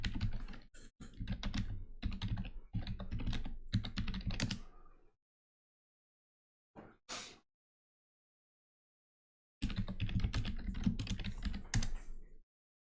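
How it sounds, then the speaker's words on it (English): Loud, rapid typing on a computer keyboard, the keys clattering close and dense for several seconds, then a pause broken by a short burst, and then another run of fast keystrokes. "Sorry about all the loud typing."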